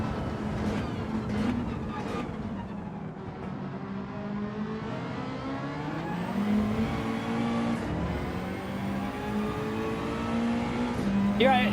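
Lexus and Mazda race cars roaring down a straight in Gran Turismo 7, their engines droning steadily with rising pitch as they accelerate side by side, while someone talks over the racing.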